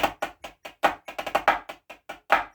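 A pipe band snare drum plays a short phrase opening with a five-stroke roll and a drag, crisp close strikes in a quick uneven rhythm with clustered buzzing rolls between single hits.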